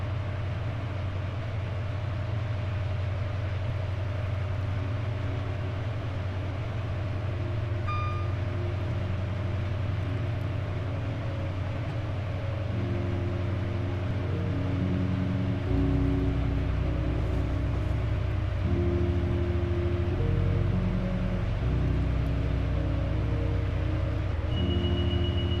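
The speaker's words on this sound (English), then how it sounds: "the roar of this train is drowning out everything else" A heavy train engine roars steadily in the Great Western Express train simulator game, a deep continuous drone that swells louder partway through, alone with no talk.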